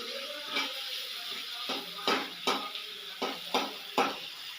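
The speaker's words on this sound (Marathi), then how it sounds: "लालसर होईपर्यंत परतून घ्यायचा त्याला" Onion is stirred in oil in a pan until reddish for a home party dish, with a soft frying hiss and a series of distinct spatula scrapes against the pan arriving every half second or so.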